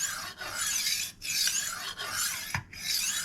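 A kitchen knife drawn repeatedly across a HORL or Tumbler rolling honing sharpener, giving steady close rasping strokes, about four long scrapes separated by brief pauses, with no voices.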